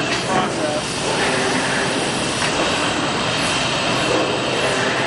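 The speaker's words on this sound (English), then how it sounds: "That feeds directly into the sander." Industrial sander on a Cefla panel finishing line runs as a loud, steady broadband roar with constant machinery drone, close and unbroken throughout.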